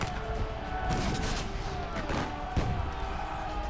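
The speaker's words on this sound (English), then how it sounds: "Bayonets clash and gunshots fire at point-blank range in hand-to-hand fighting." Gunshots in a War of 1812 battle reenactment during hand-to-hand fighting at a rampart: a dense, rumbling fusillade of overlapping shots, with one sharper crack near the end, heard at mid-distance.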